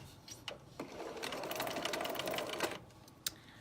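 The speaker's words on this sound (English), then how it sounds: "And I'm gonna sew using my scant 1/4 inch." Sewing machine stitching a scant quarter-inch seam while piecing a quilt house block, a steady close whirring run of about two seconds with brief start and stop bursts on either side.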